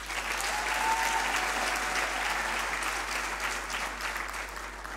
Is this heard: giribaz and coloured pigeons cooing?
no